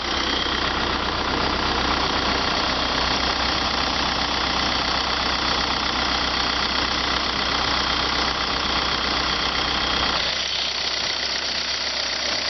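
A 2004 VW Passat 1.9 TDI turbo diesel rated at 130 hp idles close by with a steady, even clatter. The tone shifts slightly near the end.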